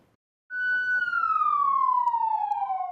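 A single loud police siren tone starts abruptly and slowly falls in pitch, a long descending wail heard close by at a sheriff's office show-and-tell event.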